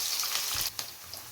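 Mustard seeds, curry leaves and onion frying in hot oil for broccoli palya, a steady close hiss of sizzling with a brief clatter partway through.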